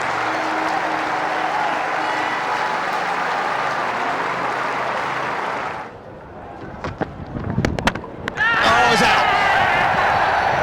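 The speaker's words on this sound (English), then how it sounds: "The majority of the crowd give him a good reception" A cricket crowd at a New Zealand versus England Test match applauds a departing batsman, sustained clapping for several seconds that cuts off, followed by scattered claps, thumps and a commentator's voice.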